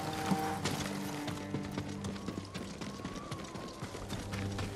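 Horses' hooves clip-clop in an irregular trot in the video game Ghost of Tsushima, alongside a soft layered musical background, moderately quiet.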